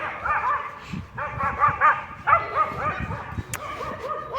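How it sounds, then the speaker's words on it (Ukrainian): Several dogs bark and yip repeatedly at close range in Nikopol, Ukraine, overlapping in uneven bursts with a few whimpers between. "ще собаки"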